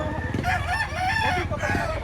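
A roughly eleven-month-old rooster at a poultry market in Lipa, Batangas crows loudly and close, with clucking fowl and faint background chatter.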